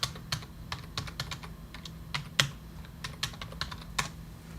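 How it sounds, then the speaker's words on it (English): Fingers tap on a computer keyboard in short bursts of close, crisp keystrokes at an uneven rhythm, with no talking. "Let me see if I can type in my man, Randy Powell"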